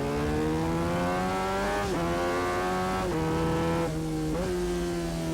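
A racing motorcycle engine at the 1991 Daytona 200 drones loud and steady from on board, its pitch dipping and climbing again several times as gears change and it accelerates, with no talking.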